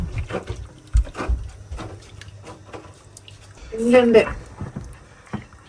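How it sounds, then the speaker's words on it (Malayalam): Second coconut milk pours into a pot of ada pradhaman in one brief liquid splash midway, with talk around it. "2ാം പാൽ ഒഴിക്കുകയാണ്"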